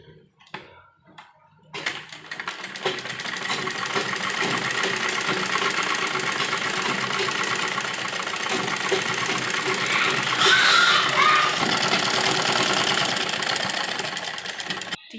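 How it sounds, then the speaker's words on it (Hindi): Sewing machine stitching along fabric edges, a fast, continuous mechanical whirring and ticking that starts after a short pause and runs steadily at close range. "यहाँ किनारे किनारे पर हमें इसकी सिलाई लगानी है"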